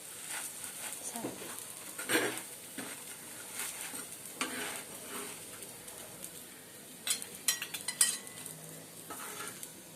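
Pav bhaji simmering in a pan as it comes to a boil, soft bubbling and sizzle with intermittent stirring and utensil scrapes, fairly faint, with some speech in the background.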